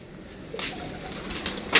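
Pigeons coo softly nearby, a few low throaty calls with a brief flutter near the end, over quiet background.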